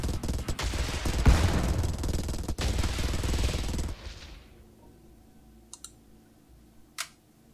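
A fleet bombards a planet in the space strategy game Star Drive. Dense, rapid crackling bursts like sustained gunfire run for about four seconds, then cut off into near quiet broken by two short, sharp blips.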